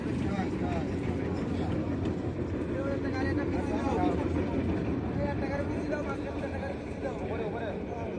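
Trawler boat engine at the Laudoba ferry ghat near Mongla, Bagerhat, a steady low motor drone running throughout at moderate distance, with a person talking over it.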